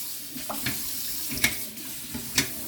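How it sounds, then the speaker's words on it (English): Tap water runs into a kitchen sink while dishes are rinsed, a steady splashing stream with a few louder clinks and splashes as items are moved under it. "I just have a bit of rinsing to do here"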